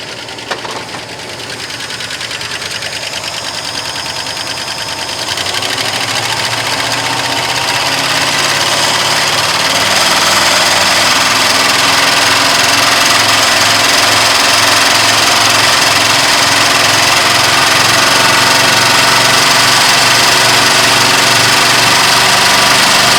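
A 1972 Ford Highboy truck engine runs loud and close, its throttle worked so the roar swells up from a lower idle into a sustained high rev with a rough, knocking vibration underneath.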